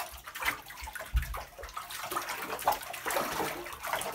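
Hot water runs into a foot bath with a soft, uneven splashing and trickling flow, fairly quiet and close, with no one speaking.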